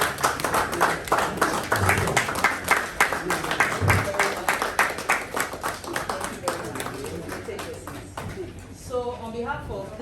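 Audience clapping for a graduating field epidemiology training cohort at a ceremony in Liberia, a rhythmic, fairly close patter of individual claps that thins out, with a voice speaking near the end.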